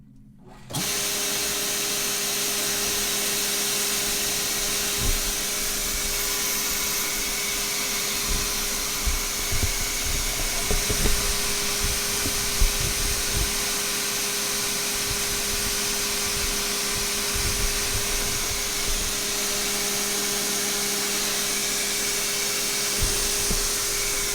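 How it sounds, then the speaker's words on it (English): The air blower of a Baum 2020 paper folding machine switches on abruptly and settles into a loud, steady whooshing hum that runs on unchanged, with faint mechanical ticks and clatter underneath. "Alright, so we'll turn our air on."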